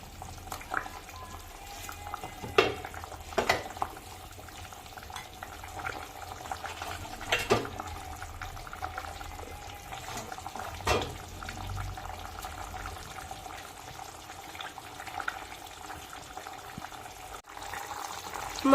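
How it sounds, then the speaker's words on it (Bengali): Bata pona fish curry (macher jhol) simmering in a pot, a quiet steady bubbling with a few soft clinks and stirring knocks scattered through, with no talk. "তরকারিটা ফুটে গেছে, তো এখন আমি ভেজে রাখা মাছগুলো দিয়ে দেবো।"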